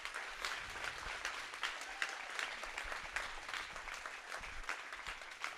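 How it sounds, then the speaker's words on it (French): Conference audience applauding the Poitiers team at a medical simulation competition final, sustained crisp clapping with distinct individual claps popping through the mix. "On les applaudit très fort."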